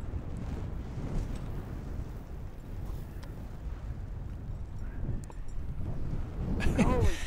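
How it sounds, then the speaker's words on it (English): Strong gusty wind buffets the microphone on a fishing boat out on rough open water, a continuous low roar and rumble throughout that swells louder toward the end. "I really don't have to tell you that it's windy or rough out here"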